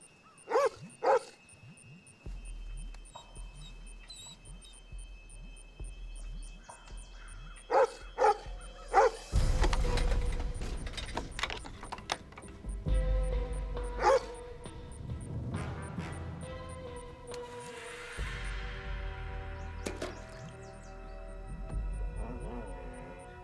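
Dog barking in repeated sharp bursts, some close and loud, mixed with yips and a whimper amid other clatter and noise, set in a disaster film scene near a well.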